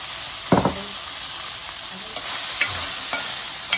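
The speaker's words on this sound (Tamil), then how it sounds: "பன்னீரை போடுறோம். பொரிச்சு வச்ச பன்னீர்" Fried paneer cubes tossed into a frying pan over ginger-garlic paste for paneer devil, with a steady close sizzle and a few clattering stir strokes at intervals.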